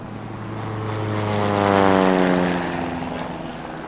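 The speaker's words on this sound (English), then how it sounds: "that plane you hear up ahead" Droning propeller airplane passing overhead on a safari ride, its engine hum rising to a peak midway, with a falling pitch, then fading away as it moves off.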